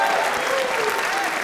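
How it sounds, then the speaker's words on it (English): A community theater audience applauds the assistant stage manager at an adult drama group's Beauty and the Beast, a brief dense burst of clapping with a voice faintly audible beneath. "A round of applause to Nancy Krauss"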